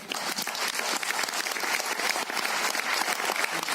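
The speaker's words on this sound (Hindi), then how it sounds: "मैं सबसे पहले आप सब लोगों के लिए एक बार जोरदार ताली बजाना चाहूंगा।" Seminar audience applauding loudly and steadily, a dense wash of many hands clapping at once with no voices over it.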